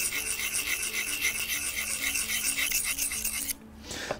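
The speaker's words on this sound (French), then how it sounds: "J'ai ce mouvement tournant, donc on s'aperçoit que comme la pierre est mouillée, ça dépose un peu d'abrasif sur le fil de la lame." Pruning shears blade rasping against a wet whetstone in a circular motion, a steady close scraping that runs continuously before cutting off sharply near the end.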